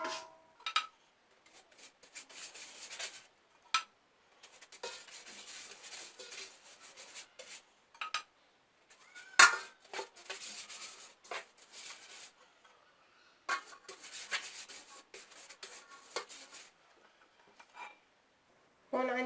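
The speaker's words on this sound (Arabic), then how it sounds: "هلا بدهن صحن الفرن بالزبدة بواسطة فرشاة صغيرة" A small brush spreading melted butter over an oven dish for baklava, heard as faint intermittent dabbing and rubbing strokes with quiet gaps between them and one sharper tap partway through.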